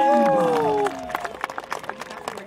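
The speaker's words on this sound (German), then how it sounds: "Und das Publikum jubelt die Tiere noch einmal zu" Audience applauding and cheering at a children's storytelling performance, the clapping spread out and moderately near, a brisk patter of hands that follows a sustained held tone.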